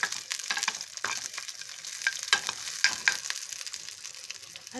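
Cumin, pepper and fenugreek frying in a pan, crackling and sizzling with spoon scrapes and clicks as they are stirred, close and fairly quiet, with no one talking.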